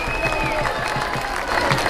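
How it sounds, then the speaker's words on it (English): A street crowd at a pro-Trump march claps and cheers for the police, a short dense burst of applause outdoors with voices mixed in. "Round of applause for the police."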